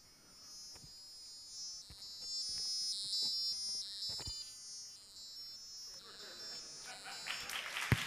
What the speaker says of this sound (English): It's buzzer.